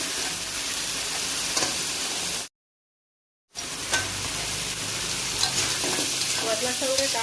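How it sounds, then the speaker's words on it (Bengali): Crabs frying in a pan of spiced masala with turmeric and salt, a loud continuous close sizzle with stirring scrapes, broken by a sudden second of total silence midway. "মশলা খুব ভালোভাবে কষিয়ে নিয়েছে এখন দিয়ে দেবো কাঁকড়াগুলো"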